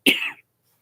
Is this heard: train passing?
no